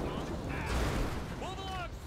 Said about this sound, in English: We got a huge explosion out here.